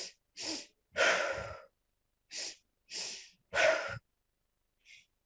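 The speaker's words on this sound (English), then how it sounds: "breathe in twice through your nose and then once out through your mouth quite forcefully" A breathing exercise: two quick sniffs in through the nose followed by a forceful exhale through the mouth, repeated in separate loud bursts with short pauses, plus a faint final breath.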